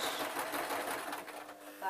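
A sewing machine runs a running stitch through lamb puppet fur, a steady close mechanical whir that continues throughout with a voice talking over it.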